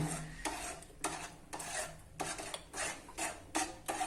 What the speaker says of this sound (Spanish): seguimos revolviendo para que no se vaya a espesar